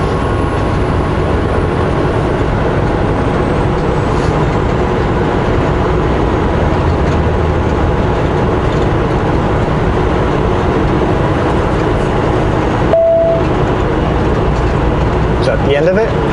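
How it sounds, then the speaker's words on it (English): A very long freight train rolls past a highway in a steady, continuous rumble of wheels and cars that lasts throughout, with voices talking over it. "That is a long train. Okay, it's a very long train."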